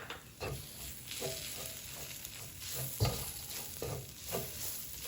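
Tomato paste, a tablespoon of it, fries and gets stirred in a pan for a spicy coconut eggplant dish. A steady low sizzle runs throughout, broken by several soft scraping stirs spaced about a second apart, with no talking.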